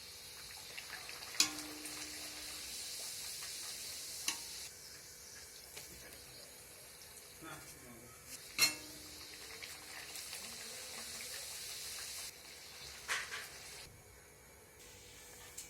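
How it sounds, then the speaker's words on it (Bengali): Luchi, puffed flatbreads, fry in hot oil in a wok, giving a steady soft sizzling hiss with bursts of louder crackle and spatter as the dough hits the oil and puffs, close and without talk. "কত সুন্দরভাবে ফুলকো ফুলকো লুচি ভাজা হচ্ছে"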